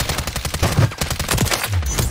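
Rapid automatic gunfire from a Call of Duty Warzone match rattles loud and close in dense bursts, with no talking over it.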